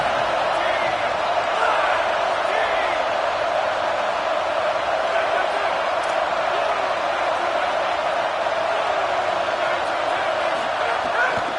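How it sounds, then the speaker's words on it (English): A college football stadium crowd roars on a third down, a sustained wall of noise that swells and holds, with voices and shouts blended into a distant, even din. "Decibels rising as the crowd gets behind this defense on third down"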